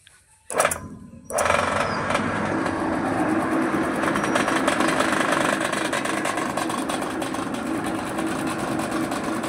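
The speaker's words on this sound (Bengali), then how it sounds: "এই যে ধান ঝাড়াই হবে এবার।" An engine-driven paddy threshing machine runs loud and steady after a brief start, a dense continuous mechanical roar with fine rattling that holds for several seconds.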